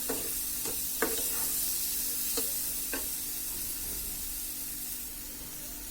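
Dried kaski shutki fish sizzles in a frying pan as chopped tomatoes and potatoes go in, with a steady hiss of frying broken by a few soft clicks and stirring knocks.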